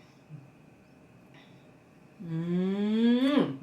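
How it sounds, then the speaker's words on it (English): A dog snores softly, then lets out one long, rising nasal snore-like whine that swells loudly near the end. "She's snoring."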